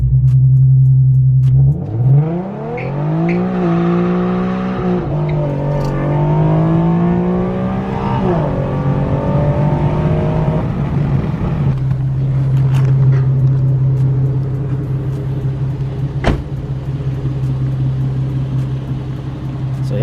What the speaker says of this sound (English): Let's launch it really quick for the vlog.